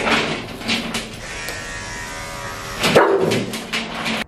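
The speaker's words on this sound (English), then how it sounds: "Oh no, he didn't just growl at me." A dog growls and whimpers while being groomed with electric clippers. A steady buzzing hum runs throughout, with a louder vocal growl near the end and short yips over the clippers.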